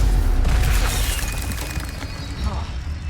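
A Stupefy spell cast in Hogwarts Legacy on PS5 bursts out as a dense, booming blast of noisy energy. It fades into a rumbling tail while a voice shouts over it.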